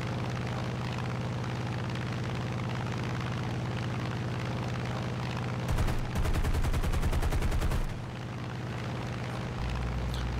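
Rapid machine gun bursts ring out from an F4U-1D Corsair fighter in a War Thunder realistic air battle, a sharp rattling volley of about two seconds over a steady droning propeller engine.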